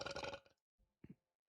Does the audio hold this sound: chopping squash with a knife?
no